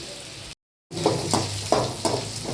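Onions fry in a pan under a steady sizzle, with a spoon stirring them in four or five distinct scraping strokes. A brief silent gap comes early, and no one speaks.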